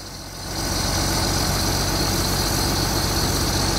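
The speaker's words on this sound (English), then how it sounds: "Because when a key doesn't start a tractor, a wrench will." A farm tractor on a Wisconsin corn-planting farm, started with a wrench instead of the key, catches and settles into a loud, steady, close idle with a low rumbling drone.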